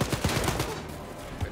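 Rapid bursts of assault rifle fire in the shooter game Wolfenstein: Youngblood, loud and close, with repeated sharp shots clustered at the start and another burst near the end, over a dense busy game mix.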